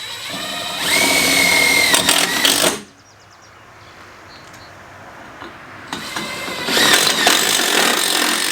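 A power tool drives number 14 by 2-inch self-tapping screws during an ATV tie-down setup, with two loud whirring bursts of about two seconds each separated by a quieter pause, and no talking.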